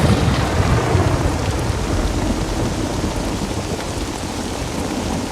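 Heavy rain falls with rumbling thunder, a loud, dense, steady wash of noise with deep low rumble running through the whole stretch.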